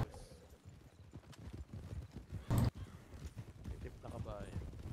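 Rhythmic video game horse hoof clip-clops, a black horse, patter steadily beneath people talking, with a brief louder burst partway through.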